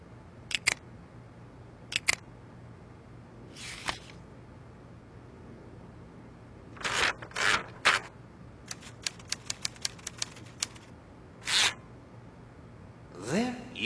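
Keys strike an old manual typewriter in a quiet room: scattered single clacks, then quick bursts of rapid keystrokes and a few louder clusters, close and crisp, with faint talk around them.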